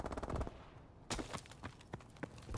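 Rapid automatic gunfire from a video game weapon, bursts of close, sharp shots rattling in quick succession with brief gaps between volleys.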